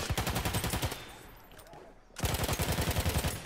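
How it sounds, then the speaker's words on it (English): Bursts of rapid machine gun fire from a support soldier in Battlefield 1 rattle loud and close, a long volley breaking off into a quieter pause before another sustained burst resumes. "this support seems to be putting down a lot of fire"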